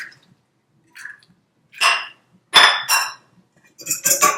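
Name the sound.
whisking two eggs with ricotta cheese and parsley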